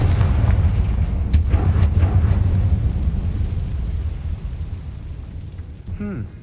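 A Confringo blast spell in Hogwarts Legacy blows apart a barricade with a loud, deep rumbling boom and crackling debris that slowly fades, followed by faint game sounds.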